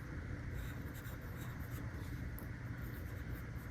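Pencil drawing hearts on paper: a close, steady scratchy rasp of graphite on paper, continuous and fairly quiet, with no talking.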